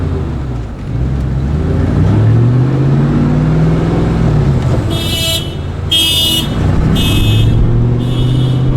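A Mercedes-AMG C43 engine rumbles loudly and steadily nearby, and about four sharp, crackling exhaust pops burst out in quick succession near the end.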